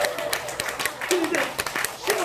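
Audience at a lecture on speech and laughter therapy claps in a short burst of scattered applause, while a speaker's voice continues talking over it.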